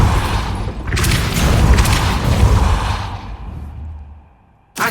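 Depulso repelling spell cast in Hogwarts Legacy, a loud booming whoosh with crackling bursts that swells, holds for a few seconds, then fades out before a brief sharp hit at the end.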